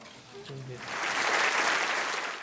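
Applause in the House of Commons at the close of an extraordinary session swells up after a brief voice and then fills the chamber with sustained, broad clapping.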